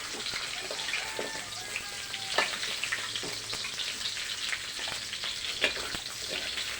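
Pork adobo fries in oil while being stirred, a steady close crackling sizzle broken by scattered scraping and clicking of the utensil, with no talking.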